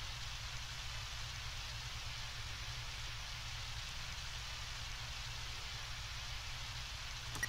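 Soft, even rain hiss with a low rumbling undertone from the video game Undertale, continuous and unchanging throughout, quiet and without any voices.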